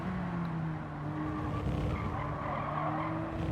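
Race car tires skid and squeal in the Gran Turismo 7 racing game, a sustained tonal screech held over engine drone for several seconds, steady and loud, with no speech.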